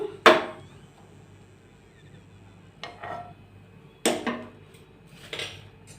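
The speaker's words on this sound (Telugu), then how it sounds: "అన్నీ ఈ విధంగా పక్కన ప్లేట్లోకి తీసి పెట్టుకుందాం." Fried potatoes lifted from a pan onto a plate, with a few sharp metallic clanks of a utensil against the pan and quieter scrapes between them, close by.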